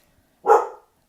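A single close dog bark, loud and short, rising sharply and fading over about half a second in an otherwise quiet room.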